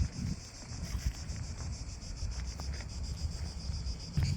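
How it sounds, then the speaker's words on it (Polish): A steady high-pitched buzz of cicadas drones continuously outdoors near Omiš, Croatia, by the sea, with low rumbling wind noise against the microphone. "Cykady słychać."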